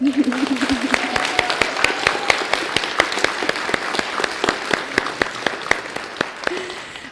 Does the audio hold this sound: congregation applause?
yes